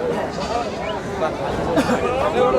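A cross-breed goat at a livestock market bleats repeatedly and fairly close, its wavering cries rising over a steady crowd murmur and nearby chatter.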